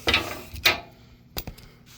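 Ratchet wrench working bolts on a Rissler V975 TMR mixer, with a few short, sharp metallic clicking bursts spaced apart, close by and fairly quiet.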